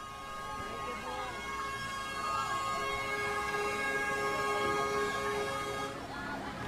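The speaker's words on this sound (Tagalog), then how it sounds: "Yung bumbero yan. Rinig mo, Ate Kat, yung ingay." A fire truck siren wails during a residential fire in a Pateros alley, fairly distant and steady, with its tones held over a noisy street background and some voices nearby.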